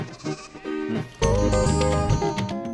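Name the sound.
sheep bleating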